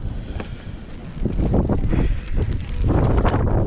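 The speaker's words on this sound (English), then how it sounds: "Very windy today." Gusty wind buffets the microphone on a fishing pier with a rough, rushing roar that swells and fades unevenly throughout.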